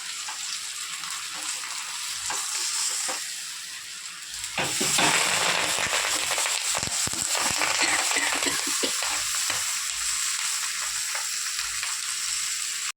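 Fish paturi, fish wrapped in leaves, sizzles and fries in a pan, a steady hiss that grows louder midway as the parcel is flipped, with scraping and knocking of a utensil during the turn.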